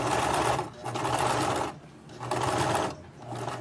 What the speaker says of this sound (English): Right close to the edge like a top stitching, okay?